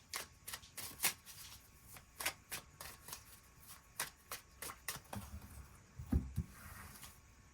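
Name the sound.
tarot cards being shuffled and drawn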